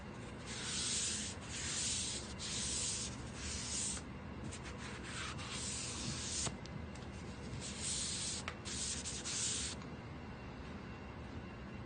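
Sanding a live edge walnut mantel filled with epoxy, sanded to 120 grit so far: steady, close rubbing and scratching strokes that come in repeated bursts with brief pauses, running alone without talk.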